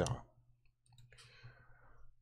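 A computer mouse gives a single sharp click, quiet and close, in an otherwise hushed room while someone works in the Cakewalk by BandLab music sequencer.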